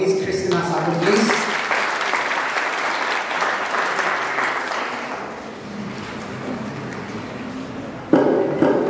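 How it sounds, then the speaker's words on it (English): Audience applause at a felicitation ceremony, sustained clapping from a crowd that swells and then tapers, with a brief loud sound near the end. "Round of applause for Miss Christina Sato please."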